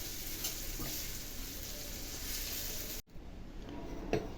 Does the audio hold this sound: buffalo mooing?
no